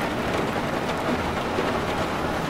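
Steady, dense rain hiss from the submarine game Uboat, a night downpour that fills the whole stretch evenly with no break and no voices.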